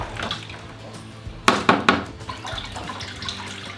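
Water is poured off fermenting chicken feed in a bucket, a splashing, trickling pour with a few louder gushes in the middle and softer dribbling toward the end.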